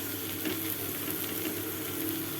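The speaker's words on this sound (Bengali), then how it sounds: "এটাকে দিয়ে আমি ভালো করে কষিয়ে নেব।" Soybean and pea paste frying in a pan, a soft continuous sizzle with faint stirring scrapes, fairly quiet and steady throughout.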